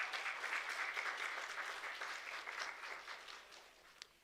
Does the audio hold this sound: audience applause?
yes